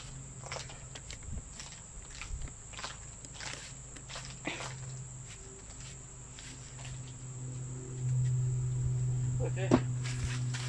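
Honeybees hum in a low, steady drone around a log hive being rehoused, swelling louder toward the end, with a high insect whine and occasional footsteps and handling noises.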